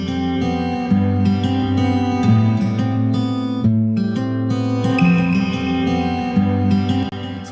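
Guitar sent to a reverb in a mix, a dense sustained chordal part with a lush ambient wash, steady and loud throughout with no talking.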